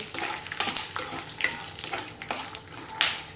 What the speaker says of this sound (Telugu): పల్లీలు దోరగా వేయించుకోవాలండి